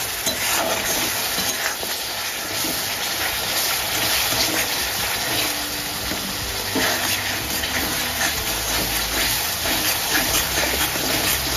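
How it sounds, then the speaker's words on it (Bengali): Ground spices with turmeric frying in oil in a pan, a continuous dense sizzling hiss with faint stirring, moderately loud and steady. "মশলাটা ভালো করে কষিয়ে নেব তেলের উপর ভেজে ভেজে।"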